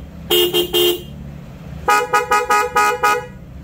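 Denso waterproof horn fitted to a Honda PCX 2019 scooter, sounded close and loud: one sustained triple-toned blast, then a pause and a run of six short rhythmic honks.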